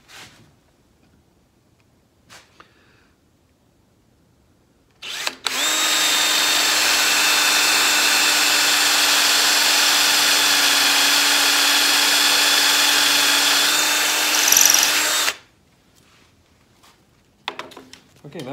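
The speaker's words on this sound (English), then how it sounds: "I like to go into the wood, the depth of the Forstner bit head." A power drill boring into elm wood with a Forstner bit, one loud steady ten-second whine that starts and stops abruptly, with quiet clicks and handling before and after.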